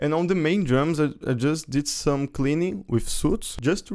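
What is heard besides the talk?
No everyday noises stand out.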